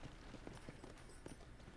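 Horse hooves clip-clop in the Red Dead Redemption video game, a steady run of soft, evenly spaced thuds at close range over a dense, noisy game backdrop.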